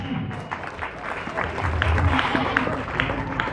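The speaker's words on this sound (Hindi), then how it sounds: "जोरदार तालियां।" An audience claps in a steady, sustained burst at a football tournament prize distribution ceremony in Gumla, with the crowd noise building slightly toward the end.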